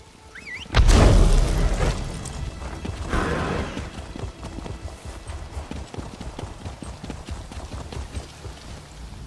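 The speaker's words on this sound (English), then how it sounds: "My horses are beautiful." Horse hooves clip-clop in the video game Elder Scrolls Online, a steady rhythmic trot of close, moderately loud footfalls following a heavy rumbling burst at the start, with no talking.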